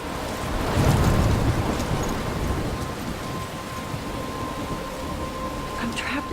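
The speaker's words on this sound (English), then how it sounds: "I'm trapped in a storm?" A thunderstorm in the video game Life Is Strange: Chrysalis, with steady heavy rain and a low rumble of thunder early on, filling the scene continuously and loudly.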